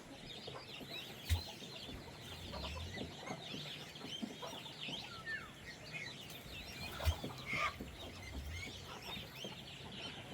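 Busy farmyard calls of geese and chickens, honking and clucking birds overlapping continuously at moderate volume, with a couple of louder sharp calls standing out.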